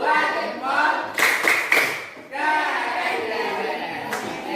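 A classroom of students performs a rhythmic clap chant, sharp bursts of hand claps and taps in short patterned groups, mixed with children's chanting voices and a teacher talking between the beats.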